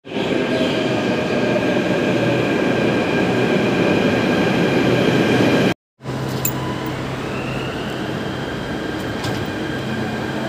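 A Delhi metro train at Keshav Puram station rumbles loudly with a droning hum, cuts out briefly, then continues with rolling wheel noise and faint squeals, no voices present.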